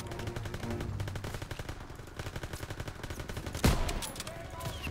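Rapid automatic gunfire in the video game Call of Duty WW2, a fast rhythmic string of shots with a sharper, louder blast near the end.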